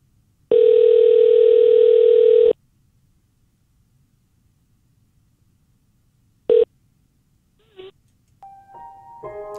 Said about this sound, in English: People like hearing us dial the phone.